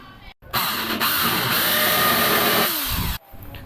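A power drill bores into a metal catch can bracket for a Mitsubishi Lancer, a loud continuous whine lasting nearly three seconds, with short pauses before and after.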